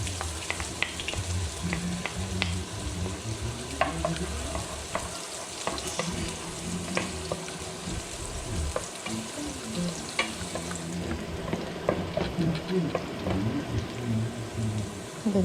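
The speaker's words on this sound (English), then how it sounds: "next you're just gonna saute the garlic and onion" Garlic and onion sauté in oil for chicken à la king with a continuous crackling sizzle, stirred with frequent spoon scrapes and taps, the frying steady and fairly close throughout.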